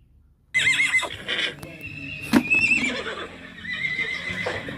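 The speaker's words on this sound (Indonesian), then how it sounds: "Eh, ada kuda nih teman-teman nih" A horse neighs and whinnies loudly and close by, with a hoof clip-clop and other animal or crowd noise mixed in, heard alone after a quiet start.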